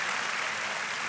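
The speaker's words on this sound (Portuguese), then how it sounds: "dê uma forte salva de palmas para Jesus" An audience at a church gathering gives a short burst of steady, dense clapping, fairly faint and with no voices over it.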